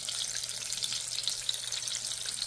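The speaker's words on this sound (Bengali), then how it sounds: "বেগুন ভাজা হতে থাক," Eggplant fries in a pan with a steady, bright sizzle and crackle, close and continuous, with no voices.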